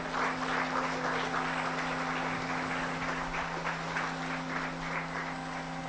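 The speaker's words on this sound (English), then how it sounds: "ladies and gentlemen, another round of applause" An indoor audience applauds at a strategic plan launch event, a steady patter of many hands clapping at moderate distance over a constant electrical hum.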